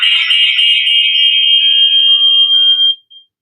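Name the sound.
phone call alert sound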